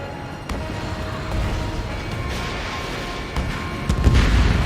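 Missile explosions in a combat flight video game, heard as a steady low rumbling roar with several dull booms, the heaviest burst near the end, all fairly loud and close.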